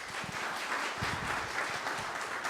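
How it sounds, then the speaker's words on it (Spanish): Steady applause from an audience at an electoral training course, a dense even patter of many hands clapping throughout, fairly distant and uniform, with no talk over it. "un fuerte aplauso,"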